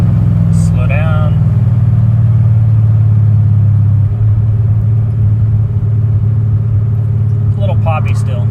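A 1974 Chevy engine with a TBI Megasquirt fuel-injection conversion rumbles steadily while driving, running a little poppy, its low drone constant and loud, with brief voices over it near the start and end.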